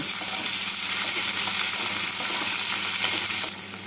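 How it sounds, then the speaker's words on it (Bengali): Chopped onions sizzle in hot oil in a pan as they are stirred for an Indian okra and potato fry. The frying hiss is loud, close and steady throughout, with faint scraping from the stirring and no talk. "পেঁয়াজগুলোকে তেলের মধ্যে নাড়াচাড়া করে নেব।"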